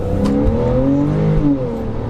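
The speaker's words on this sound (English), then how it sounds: "It's a naturally aspirated engine." A Porsche's naturally aspirated engine revs hard up close, its pitch rising steadily as it accelerates on wet, muddy roads, loud and continuous with a smooth mechanical drone.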